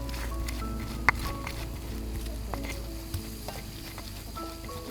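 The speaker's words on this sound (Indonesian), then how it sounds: "Goreng." Catfish sizzles and crackles steadily in a frying pan as it is stirred, with occasional scraping clicks over the continuous hiss.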